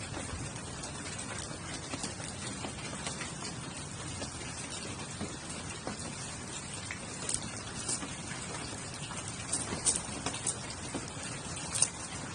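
Steady rain patters on surfaces at a wet campsite, a continuous hiss of drops with occasional louder nearby drips and no voices.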